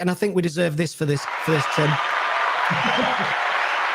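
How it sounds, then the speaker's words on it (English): Studio crowd cheering and applauding for a former footballer, a broad wash of clapping and cheers swelling in and holding steady at full volume after a man's brief spoken introduction. "you used to love that kind of cheering back in the crowd"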